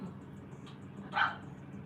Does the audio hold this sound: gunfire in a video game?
no